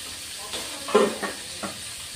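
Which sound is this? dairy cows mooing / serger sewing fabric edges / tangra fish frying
tangra fish frying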